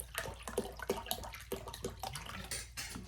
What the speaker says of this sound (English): Add a little water to the water container here.